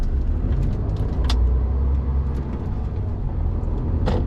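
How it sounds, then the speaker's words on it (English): A van passes on a road while a vehicle towing an empty trailer waits, giving a steady, close low engine rumble that swells slightly and fades, with no talk. "I'm just going to wait until this van comes past as well"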